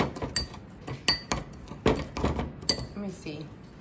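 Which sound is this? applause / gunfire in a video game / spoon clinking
spoon clinking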